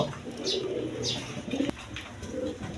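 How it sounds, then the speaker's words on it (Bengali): Pigeons, including high-flying Giribaz birds, coo at a pigeon market, soft repeated murmuring calls over steady background noise with a few higher chirps. "এইখানে নিতে পারেন হাই ফেলিং গিরিবাস কবুতর বাচ্চা সহ"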